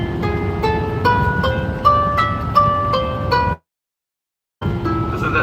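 A Hebrew cantillation musical scale plays as a sequence of distinct sustained notes, one after another, before a second of silence and then a final note resumes.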